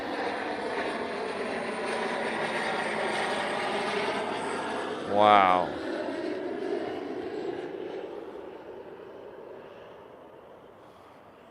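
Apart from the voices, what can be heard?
airplane flying overhead, sounds like a big jet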